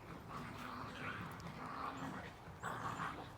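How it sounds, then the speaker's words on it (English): Dogs play outdoors in a garden, giving off soft yips and whimpering noises over a steady, broad background hiss, fairly faint and continuous, with a slightly louder burst near the end. "The dogs are playing."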